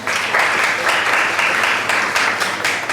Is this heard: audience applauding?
yes